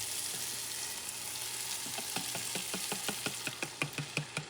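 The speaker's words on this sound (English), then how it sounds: "And now we're going to scramble these eggs" Eggs scrambled in a hot pan just above medium heat, a steady background sizzle with quick rhythmic spatula strokes growing louder and more regular toward the end, close up.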